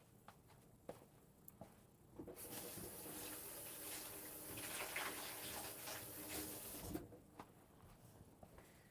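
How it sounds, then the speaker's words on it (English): Tap water runs for about five seconds during handwashing in a home kitchen while pork chops are cooking, a broad steady hiss preceded and followed by faint clicks and handling noises. "every time I touch something, I gotta wash my hands every single time"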